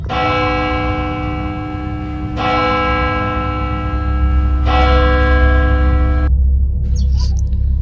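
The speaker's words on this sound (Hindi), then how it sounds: "तभी चर्च की घंटी 3 बार बजी।" A church bell rings three loud, resonant strokes inside a church, each ringing out and fading before the next, over a steady low background rumble.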